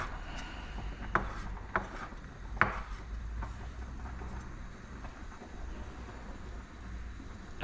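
A sharp knife chops rolled herbs on a chopping board, giving a few distinct taps early on and then quieter, irregular cutting, all faint and close.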